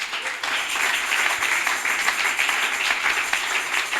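A church congregation applauding together, a dense wash of clapping that holds steady for a few seconds at moderate distance.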